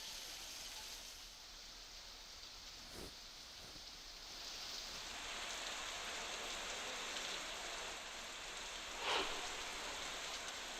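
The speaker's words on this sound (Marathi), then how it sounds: "लोणावळ्यामध्ये मुसळधार पावसाची संततधार सुरूच आहे" Heavy monsoon rain pours steadily in Lonavala as a dense, continuous hiss of drops striking surfaces, with a couple of brief sharper splashes, no voices.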